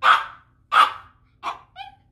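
A dog barks three times close by in sharp, evenly spaced bursts, then ends with a short rising yip, with no talking over it.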